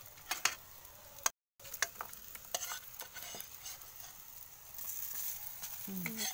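Food frying in a pan with little oil left gives a faint crackling sizzle. Scattered clicks and scrapes come from flipping and stirring, there is a short silent gap, and the sizzle grows slightly toward the end.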